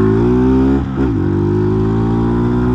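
A carbureted Titan 150 motorcycle with an SFX F-22 exhaust idles loud and close, a steady deep engine drone that dips briefly before settling back.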